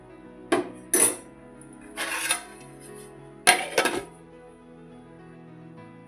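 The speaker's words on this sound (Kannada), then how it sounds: "ಈಗ ಇದನ್ನು ಗ್ಯಾಸ್ ಆಫ್ ಮಾಡಿ ಇದ್ರ ಮ್ಯಾಗ ಒಂದು ಪ್ಲೇಟ್ ಮುಚ್ಚಿ ಇಟ್ಬಿಡೋಣ" Metal plate and pot clatter while covering a pot of vermicelli payasam on a gas stove, with several sharp clinks and scrapes in two clusters, then quiet with a low hum.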